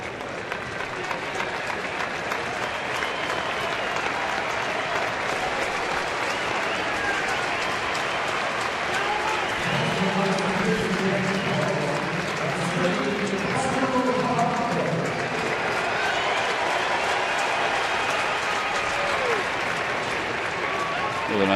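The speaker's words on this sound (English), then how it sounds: "With a nice round of applause for Placido Polanco." A baseball stadium crowd applauds a pinch hitter, a broad wash of clapping and cheering that swells midway and then eases, with a commentator talking over it throughout.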